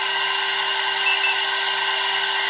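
A CNC spindle motor running steadily on a test bench, producing a constant high-pitched electric whine with a strong steady tone, close and unbroken throughout, with no talking.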